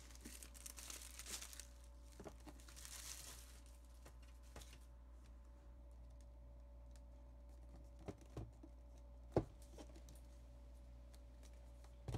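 Packaging of a 2020 iPad Pro 12.9-inch is opened: faint, close crinkling and rustling with scattered light taps and clicks over a quiet background hum, and one sharper tap near the end.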